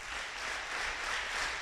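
Students and staff at a school assembly applaud together, a steady, moderately loud wash of many hands clapping in a hall that holds a level intensity throughout.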